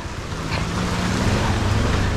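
Floodwater from an overflowing river rushes along a roadside ditch in a village, a steady, broad churning wash with a low hum beneath, close and continuous without speech.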